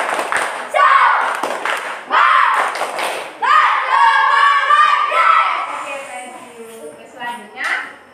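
Classroom children doing a rhythmic clapping cheer, loud bursts of clapping and shouted chanting in short repeated phrases, close and energetic, with a teacher's voice between.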